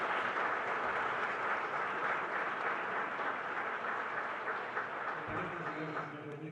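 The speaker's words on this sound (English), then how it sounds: "A big round of applause for them" Audience applause at a 2019 Concordia Americas panel on populism in Latin America, a continuous, fairly distant roar of clapping that holds steady for several seconds.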